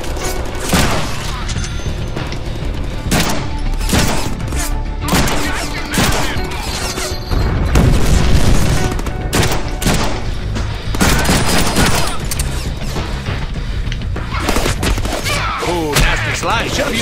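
Gunfire from the Deadpool video game: rapid bursts of shots and booming impacts crowd the scene, loud and dense, with a player's voice talking over the action at times.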